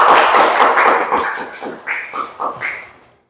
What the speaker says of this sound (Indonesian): Mari kita berikan aplaus untuk anak Yasmin.